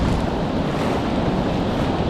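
Rough river waves churn around a small fishing boat near an abandoned lock and dam, a steady, dense wash of water and wind noise with no break and no voices.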